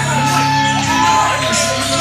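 A wrestling arena crowd roars with shouts, whoops and cheers in a loud, continuous wash of many voices that stays dense from start to finish.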